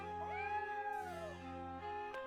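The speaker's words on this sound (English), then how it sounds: "Here, found a cat." A cat meows in Triangle Strategy, a single drawn-out, rising-and-falling cry over steady game music, with a second, shorter meow trailing after it near the close.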